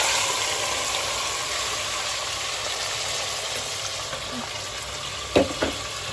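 Meat for Elazığ gömbe goes into hot rendered fat and fries with a steady, moderately loud sizzling hiss, followed near the end by a couple of brief clattering knocks of a utensil against the pot.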